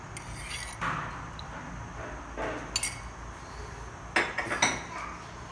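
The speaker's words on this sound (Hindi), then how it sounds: "एक वोक हमने चूल्हे पे रख लिया है। हम अब फ्लेम ऑन करेंगे। 2 टेबल स्पून हम इसमें ऑयल ऐड करेंगे।" Metal wok set on a stove with oil going in, a few sharp clanks and clinks of metal and utensils separated by quiet stretches, close by and no talk.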